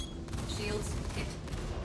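Cannons on an Anvil F7C Hornet Wildfire fighter fire in Star Citizen as a rapid, continuous volley of loud thudding shots that runs the whole time.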